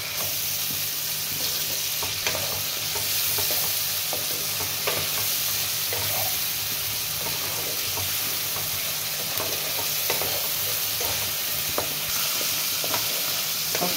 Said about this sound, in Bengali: মশলাটা প্রায় ভাজা হয়ে এসছে